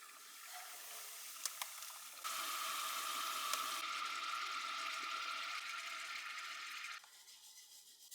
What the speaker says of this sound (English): It immediately starts boiling as it cools the dish